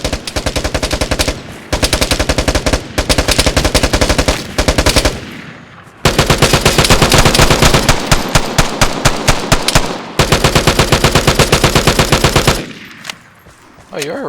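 Rapid automatic gunfire in the Vigor video game: loud close bursts of fast, evenly spaced shots, broken by short pauses, with a longer sustained string in the middle and a faint click at the end.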